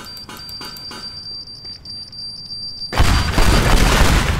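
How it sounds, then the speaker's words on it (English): Sticky bombs in the destruction game Teardown: a few faint ticking beeps over a thin high tone, then a loud, broad blast that booms and rumbles on with crumbling debris for the final seconds. "Sticky bombs!"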